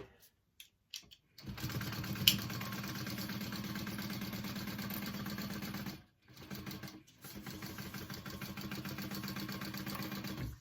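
A sewing machine stitching along the edges of a handbag, starting with a few short taps, then running in a steady close whir, pausing briefly and resuming for another even stretch.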